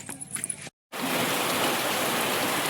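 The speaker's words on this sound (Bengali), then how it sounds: "আমাদেরও এই বৃষ্টিটা এই এসছে, তো দূরের পাড়ার থেকে একটা শাঁসা শব্দ করে আসলো" Rain approaching from a distant neighbourhood in the Sundarbans: after a brief silence, a steady, dense rushing hiss of rainfall fills the scene and stays loud and continuous.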